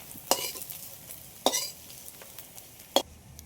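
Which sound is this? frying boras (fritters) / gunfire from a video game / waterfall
frying boras (fritters)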